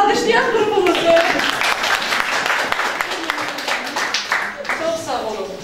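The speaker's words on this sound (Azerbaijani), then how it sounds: "Alqışlayaq qrupumuzu." Classmates in a school lesson applaud a student group, a steady round of clapping that runs through the whole stretch while voices talk over it.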